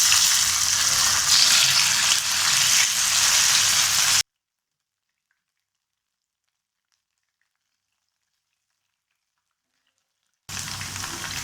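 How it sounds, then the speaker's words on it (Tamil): Marinated cauliflower pieces deep frying in hot oil, a loud dense bubbling sizzle that cuts out to complete silence for several seconds, then resumes at the end. "நம்ம இப்போது ஊற வச்சதை இதில் போட்டு பொரிச்சு எடுத்துப்போம்."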